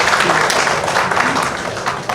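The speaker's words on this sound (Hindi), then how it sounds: "Can we please have a warm applause?" Loud audience applause welcoming actress Urmila Mahanta at a film music and trailer launch, a dense, close wash of clapping that holds steady for a couple of seconds and tapers slightly at the end.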